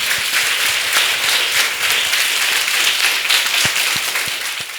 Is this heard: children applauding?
yes